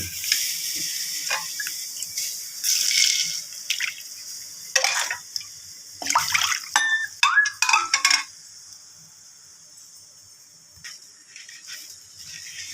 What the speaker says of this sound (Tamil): நல்லா தண்ணி ஊற்றி நல்லா கழுவணும் வாஷ் பண்ணணும்